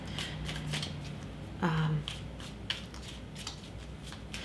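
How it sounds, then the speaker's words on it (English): Tarot cards being handled and shuffled close up, with soft riffling and slapping card sounds over a faint background hum. "Oops, almost dropped a whole chunk of cards here."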